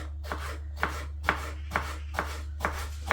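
A knife chops whole green peppers on a cutting board in a steady series of about seven evenly spaced knocks, close and fairly quiet over a low constant hum.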